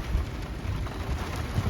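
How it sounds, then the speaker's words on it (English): Wind and heavy rain during a nighttime thunderstorm around a Volkswagen Westfalia camper, a dense steady hiss of rain with low rumbling gusts, brief and loud without pauses. "After midnight, the wind and rain have increased."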